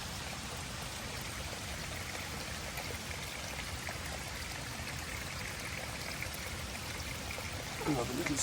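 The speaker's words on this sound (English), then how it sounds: "Another little stream coming along there." A small mountain stream in the Dolomites flows and trickles in a steady, close, continuous wash of water, with a brief knock near the end.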